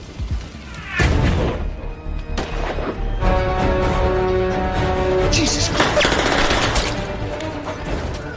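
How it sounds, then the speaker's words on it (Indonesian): Film shootout between FBI agents and triad gunmen, a dense, loud burst of rapid gunfire with overlapping shots and crashes, mixed with a dramatic score. "Film diawali dengan aksi baku tembak dua anggota FBI yang bernama John dan juga Tom"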